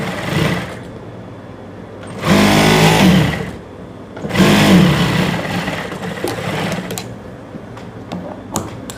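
A sewing machine runs in two loud bursts, stitching a trouser leg seam with half-inch pressure, with quieter mechanical whirring between and after the runs.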